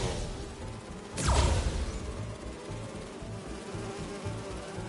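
Steady insect buzzing from bees in Marvel's Spider-Man 2, a continuous drone running throughout, with a sudden whooshing impact burst about a second in before the buzzing settles back.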